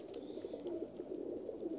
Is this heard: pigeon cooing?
yes